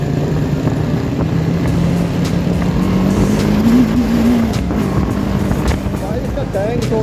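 A BMW G310R motorcycle being ridden, its engine a steady loud drone with a slowly rising pitch as it pulls along the road, heavy wind rush over it and voices faintly mixed in.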